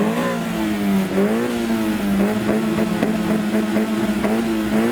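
A car engine, an MX-5 at a JDM car show, revs continuously, its pitch rising and falling as the throttle is blipped, loud and close with a rough, buzzing tone, giving off smoky revs.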